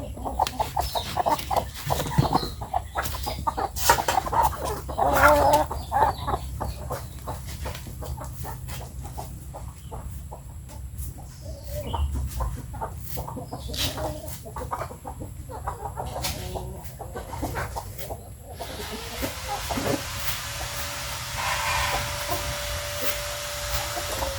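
Chickens cluck and squawk in a loud, busy chorus with a constant mechanical hum underneath and sharp calls standing out.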